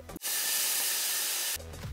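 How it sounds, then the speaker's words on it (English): Bacon frying on a kitchen stove in the Hello Neighbor video game: a single loud, hissing sizzle burst lasting just over a second, cut off sharply at both ends. "Frying up some bacon for myself."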